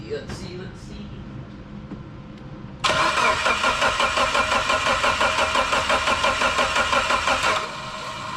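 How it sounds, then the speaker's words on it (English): A car engine cranks and catches after a fuel system upgrade, then settles into a loud, steady rumble with a rhythmic pulsing; quieter background noise and faint sounds come before the start. "Let's give it a start here."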